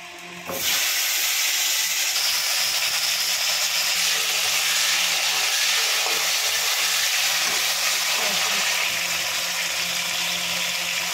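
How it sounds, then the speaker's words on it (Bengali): Potatoes frying in hot oil while making fish curry give a steady, loud sizzle and hiss that starts abruptly and runs unbroken to the end, with no voices over it. "এবার আলুটা দিয়ে দেবো তেলের মধ্যে"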